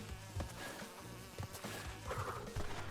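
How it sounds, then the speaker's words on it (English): A buzzing bee in the Crash Bandicoot 2 video game, an insistent droning hum among game sound effects and short percussive hits, with no talking. "Away, foul bee."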